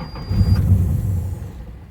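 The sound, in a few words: 1984 Nissan 300ZX Turbo engine briefly starting back up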